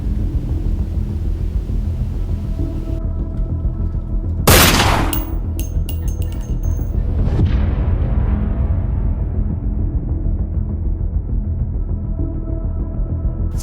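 In a short war film about the Battle of Surabaya, a single loud gunshot or blast cracks out partway through, followed by a fading low rumble over steady background noise.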